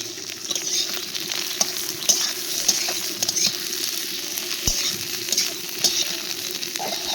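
Eggplant and tomato fry in a hot pan, giving a steady close sizzle. Spoon scrapes and stirring clicks come through repeatedly, and no one speaks.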